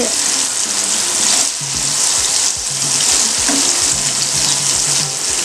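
Elephant yam slices deep-fry in hot oil. A loud, dense, unbroken sizzle and crackle of bubbling oil is heard up close, with no voices.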